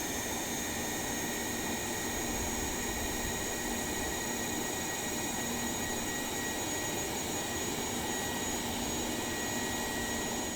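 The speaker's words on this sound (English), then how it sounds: "Now, last engine's just starting up, engine number 4." A Boeing 707 jet engine spools up in a flight simulator, a loud, steady whine with sustained high tones over a broad roaring hiss, continuous throughout with no talk.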